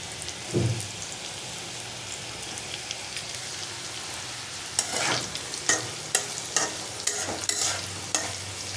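Plantain pieces sizzling and frying in a pan, with a steady crackling hiss and scattered louder pops and stirring scrapes toward the end, close and without speech.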